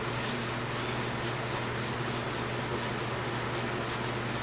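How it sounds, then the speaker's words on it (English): A walnut vase is rubbed down during a second coat of sanding sealer, producing a constant close scratchy friction sound with a faint rhythmic back-and-forth pulse and no voices. "let's go ahead and get a second coat of sanding sealer on this top part"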